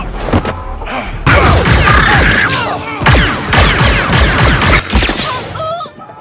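Fireworks burst in a Star Wars Outlaws video game scene, loud booming and crackling explosions coming in dense volleys, with a brief quiet gap between them.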